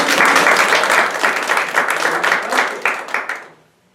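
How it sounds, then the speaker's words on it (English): Enthusiastic audience applause welcoming a speaker at a life-story talk, loud and close with some irregular individual claps, tapering off and ending abruptly into near silence. "let's give her a big round of applause"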